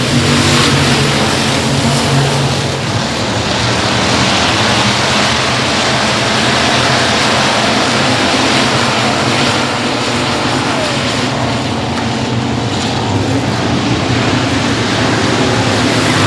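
Stock cars racing at Sabine Speedway under green flag, a loud continuous engine roar with steady droning and revving that holds throughout without a break.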